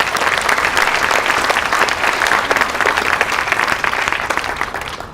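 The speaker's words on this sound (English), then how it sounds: "So I just want to give him a round of applause" Loud, sustained applause from a crowd at a municipal court ribbon cutting, dense clapping continuing evenly for several seconds.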